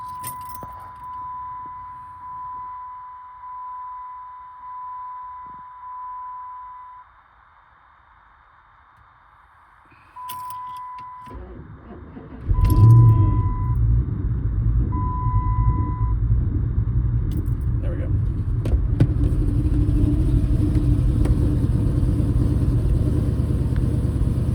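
A 2019 Chevrolet Silverado pickup on a cold start: steady chime and clicking at first, a pause, then the starter cranks, the engine catches and settles into a loud, steady idle rumble.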